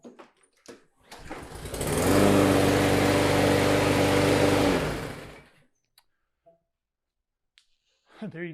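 A walk-behind gas lawn mower with no primer button, freshly oiled, starts on a single pull and runs at a steady close-up drone for about three seconds before cutting off, with brief clicks and a voice around it.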